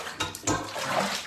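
Water running and splashing as a foot bath is drained, a short broadband gush with a burst partway through, close by and steady, with no talk.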